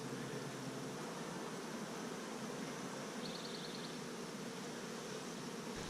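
Honeybees hum around an open hive during an inspection, a constant dense drone that fills the scene without pause, with a brief faint high chirp partway through.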